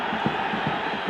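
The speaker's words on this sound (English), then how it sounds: "Crowd urging them on." Football stadium crowd urging on the home side in an Asian Champions League match, a dense sustained roar with rhythmic swells of chanting, heard at a distance.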